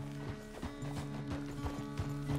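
Horse hooves clip-clop at a steady walk in Red Dead Redemption 2, regular close hoofbeats on firm ground over a low sustained musical drone.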